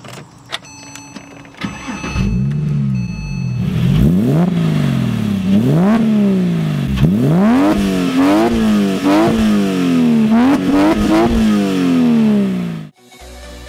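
A 2010 Porsche 911 Carrera 2S engine starts with a whir and catches, then is blipped through a series of sharp rising and falling revs, loud and close, before cutting off abruptly.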